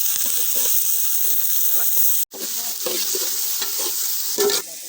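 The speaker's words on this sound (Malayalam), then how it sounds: "ഉള്ളി വഴണ്ട് വരുവേ. ഇളക്കി കൊടുക്കാം." Onions sautéing in a hot pan with steady sizzling throughout and a spoon stirring them in repeated scrapes, close and loud, with a brief break partway through.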